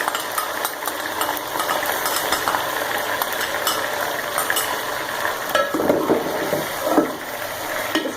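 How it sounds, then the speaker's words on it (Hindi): Beef frying with ginger garlic paste for nihari in a pot, a loud steady sizzle with stirring scrapes and clatters that grow busier near the end, heard close with no talking. "साथ इसको तकरीबन कोई 5 मिनट में भूनूंगी।"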